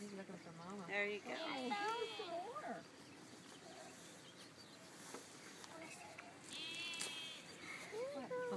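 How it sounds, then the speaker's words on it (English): A young goat bleats in several wavering cries, close by, with people talking softly around it. "You feeding the baby? Baby goat?"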